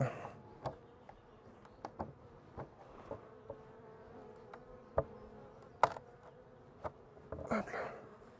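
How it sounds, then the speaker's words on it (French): Steady buzzing of many honeybees swarming close by in a hive feeder, with intermittent tapping knocks and brief louder thumps over the drone. "j'ai pas mal d'abeilles, je crois, dans le nourrisseur."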